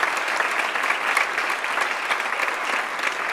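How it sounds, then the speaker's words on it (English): An audience at an awards event for Katie Couric applauds steadily, a dense, even wash of clapping hands that holds at full strength from start to finish. "Let's give a round of applause to Rahima"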